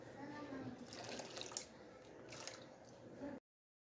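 Water trickles and splashes a little at a time into a cup of white vinegar, a quiet, close pouring sound with a couple of brighter splashy bursts before it cuts off.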